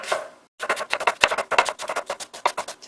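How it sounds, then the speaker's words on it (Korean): A knife chops an onion on a cutting board in a quick, even run of close, crisp strikes after a brief pause, each chop distinct and loud. "이렇게 해서 양파 썰었어요"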